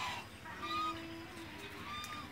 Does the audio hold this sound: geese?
yes